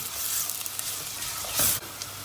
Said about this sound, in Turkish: Soğanı da kavuracağız